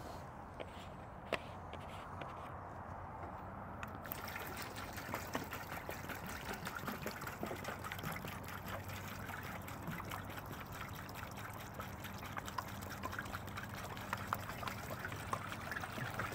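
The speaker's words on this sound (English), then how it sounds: "so we're adding some water." Water pours steadily into a 50 liter tank for a test fill, a continuous trickling and splashing wash that grows fuller after the first few seconds and carries on without any talk.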